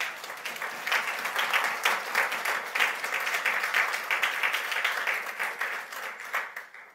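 Church congregation clapping together, a dense, fairly close burst of rhythmic applause that pulses steadily for several seconds before thinning slightly at the end.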